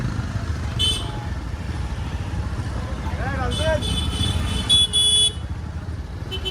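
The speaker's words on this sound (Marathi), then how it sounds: "हे बघा जाम, ट्रॅफिक जाम." Busy road traffic jammed near a village fair in Ratnagiri: a steady rumble of cars and motorcycles with several short horn toots, a burst of honking near the end, and people talking over the din.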